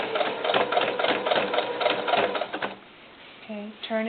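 A sewing machine stitches a vinyl doll cowboy hat in a steady, rapid chatter of needle strokes for over two seconds, then stops; a brief voice follows near the end.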